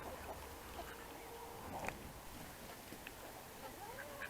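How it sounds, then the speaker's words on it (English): Pet turkeys in a chicken swamp gobble and chatter faintly in the background among clucking fowl, with soft scattered calls over a quiet outdoor murmur. "my turkeys are back there talking to me"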